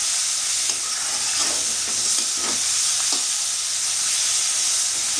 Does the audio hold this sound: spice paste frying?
yes